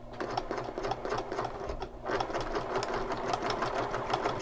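A sewing machine stitches a seam through fabric for a shoulder bag, a close, steady rapid whirring pulse that runs continuously with a brief slowdown midway.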